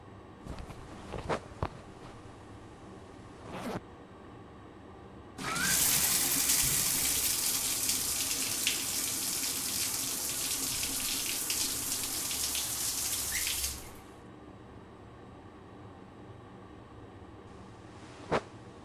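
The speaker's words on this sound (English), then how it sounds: "please take a shower." A shower runs in The Milgram Experiment game, a loud, steady hiss of spraying water that starts abruptly, holds for about eight seconds, then cuts off, with faint footsteps and bumps before and after.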